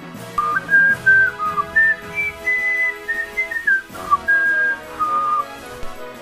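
A homemade high-pitched ocarina plays a run of random, breathy whistle-like notes, each held briefly with small pauses between, sounding close and clear with no other sounds.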